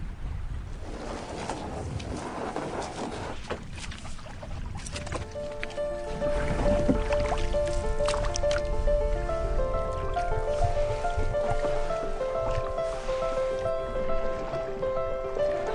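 Canoe gliding over the water of Florida Bay, a steady wash and trickle of water against the hull, with a sustained tonal hum joining midway, close and continuous.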